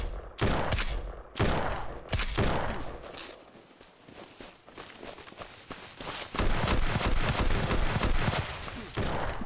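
Bursts of gunfire in SurrounDead as bandits are engaged, loud sharp shots coming in irregular clusters and rapid volleys, with quieter gaps and faint movement between them.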